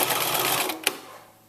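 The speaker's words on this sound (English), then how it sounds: "sewing the other corner" A sewing machine stitches across the corner of a fabric treat bag in a quick close buzzing run that slows and stops with a small click.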